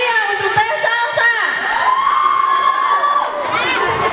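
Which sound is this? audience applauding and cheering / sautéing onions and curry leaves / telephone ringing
audience applauding and cheering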